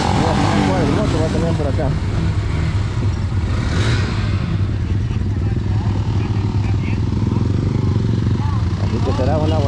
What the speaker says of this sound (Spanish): Va un buen grupo de motociclistas, mire, a disfrutar de esta bonita caravana en este día.